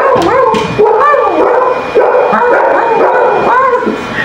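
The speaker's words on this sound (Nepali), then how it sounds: "यहाँ छ यार खतरा कुकुर" A bulldog behind a closed gate gives close, loud, repeated high-pitched yelps, whines and howl-like cries, with no people talking.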